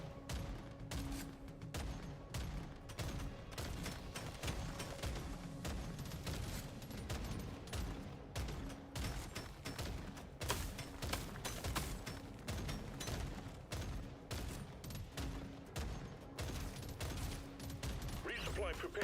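A rapid-fire shotgun in the game Hades II, with a dense run of quick, punchy blasts repeating almost continuously over busy game effects and music for the whole stretch.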